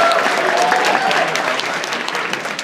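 An audience claps loudly and steadily at a cosplay contest, a thick, continuous wash of applause from a crowded hall with faint voices mixed in.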